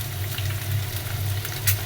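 Chopped onion frying in a pan alongside egg gives a steady, close sizzle with faint crackles over a constant low hum, with no talking.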